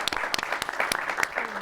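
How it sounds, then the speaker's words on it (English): Audience applause for a guest at a talk show, scattered close hand claps in a brief uneven burst. "let's clap for that."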